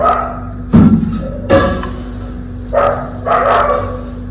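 Several dogs give short, loud barks and yips close by, about four separate bursts with thuds and brief pauses between them, with no one speaking.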